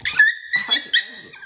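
A dog kept at home gives a few close, high-pitched yelping cries in short bursts separated by brief gaps.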